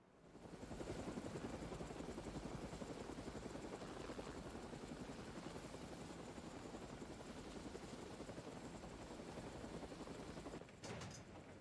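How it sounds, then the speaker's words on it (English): An emergency helicopter's steady rotor thrum fills the scene as it comes in, loud and constant, with a brief mechanical clatter near the end. "Alright, emergency helicopter coming in."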